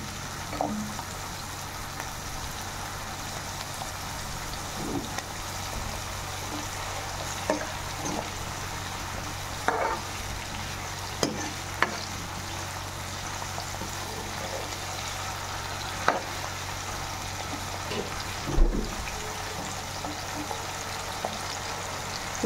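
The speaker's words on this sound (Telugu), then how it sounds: "ఈ ఆనియన్స్ బాగా రెడ్గా వచ్చేదాకా ఫ్రై చేయాలి" Onions with salt fry in a pan, a steady close sizzle with occasional scraping and stirring clinks.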